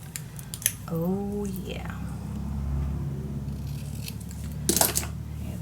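Scissors snipping paper while making a handmade secret storage book, a few crisp cuts near the start and a louder burst of snips near the end, with brief quiet speech between.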